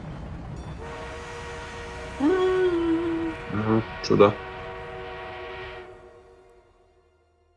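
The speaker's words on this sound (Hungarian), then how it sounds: "We are being reinforced with an armored train." An armored train pulls in during a video game battle, a steady rumbling engine drone with sustained horn tones blaring loudly in the middle before fading out, while a voice speaks briefly.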